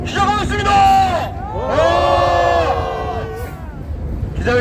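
Crowd at a civic groups' press conference in Korea lets out a loud collective roar of shouting and cheering, voices swelling in two long bursts with a brief dip between, close and forceful.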